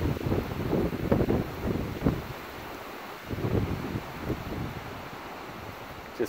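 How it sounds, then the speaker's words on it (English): Gusts of outdoor wind buffet the microphone at a log cabin building site, a rough rumbling wash that swells and eases over several seconds, then settles into a quieter steady hiss. "Just pausing for the wind there."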